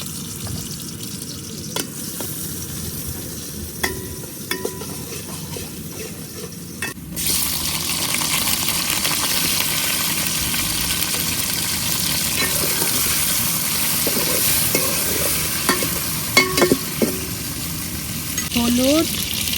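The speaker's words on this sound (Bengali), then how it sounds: "এই জন্য এখন দিয়ে দিতেছি পেঁয়াজ" Sliced onions hit hot oil in a pan for a tilapia curry: after quiet handling and clinks, a loud, steady sizzle starts and continues, with scraping stir strokes and occasional utensil knocks.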